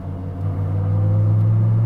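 A hypercar engine hums in a low steady drone as the driver shifts manually into second gear, the tone rising slightly and swelling louder near the microphone.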